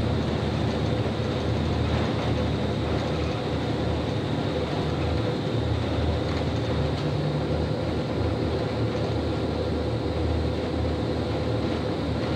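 Steady, loud, rumbling machinery drone on an aircraft carrier flight deck in Ace Combat 5 as the catapult builds pressure before launch, a continuous broadband roar with no talk over it.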